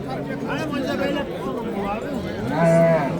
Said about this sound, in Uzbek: Ona bola sigirlar mana.